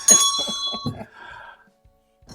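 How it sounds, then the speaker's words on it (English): A bright bell ding opens loud and close, its ringing tone fading within about a second, followed by faint quiet sounds. "Ring the bell for notifications."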